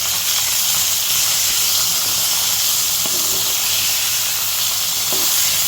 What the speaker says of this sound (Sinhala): ඊට පස්සේ ඒක හොඳට බැදෙන්න දුන්නා.